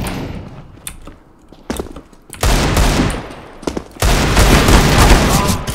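Desert Eagle pistol fire in a CS:GO Dust II deathmatch, scattered sharp shots early, then loud sustained bursts of overlapping gunfire from many players filling the second half.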